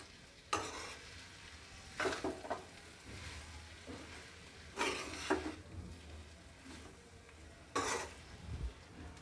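Cooked basmati rice being stirred into a pan of peas and paneer pulav, with soft scraping bursts of spoon on pan recurring every couple of seconds over a low background hum.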